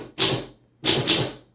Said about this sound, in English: Okay, let's go ahead and do our typing demo.